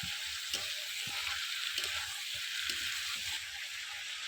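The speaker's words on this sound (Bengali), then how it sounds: "চিকেনটা একটু ভাজা ভাজা করে নেবে তেলের উপরে" Chicken frying in hot oil after browned onions, a faint, steady sizzle with occasional soft stirring taps, heard close but quiet, with no one speaking.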